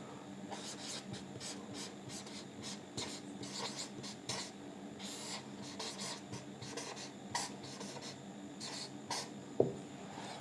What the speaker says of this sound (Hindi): इसको सर्वप्रथम आरोही क्रम में लिख देते हैं।